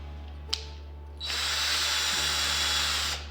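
A click, then a power drill whirs up and spins counterclockwise steadily at high speed for about two seconds before stopping, loud and close.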